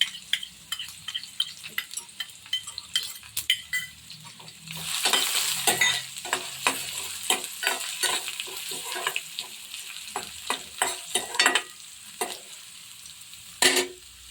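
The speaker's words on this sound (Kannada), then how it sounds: "अब हम इसमें डालेंगे बारीक कटी हुई प्याज." Finely chopped onion sizzles in a hot pan while a spoon stirs and scrapes through it in frequent clicks and taps, the frying hiss swelling briefly midway, close up with no talking.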